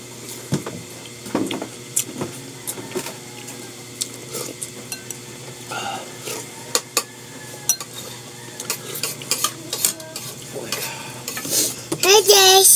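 Food sizzles in a pan while a utensil scrapes and stirs it in repeated close strokes, metal clinks rising over a steady frying hiss.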